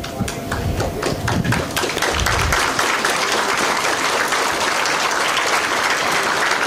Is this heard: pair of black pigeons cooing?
no